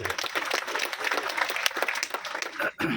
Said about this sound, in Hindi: एक बार उनके सम्मान में भी तालियां बजा दीजिए